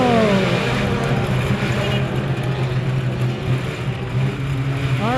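Compact race cars launch into a feature race on the Kokomo dirt track, a loud, steady pack of engines droning close by, with a revving pass sweeping in at the end.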